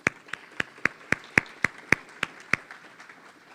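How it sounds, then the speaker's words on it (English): Conference audience applause: about a dozen sharp, evenly spaced claps ring out close and clear over a quiet room, ending abruptly after a few seconds. "So let's give them a round of applause."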